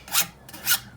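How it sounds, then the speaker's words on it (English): Two quick rasping strokes of a hand file across a metal edge, close and crisp, with a short pause between them. "we file them to take the edge off"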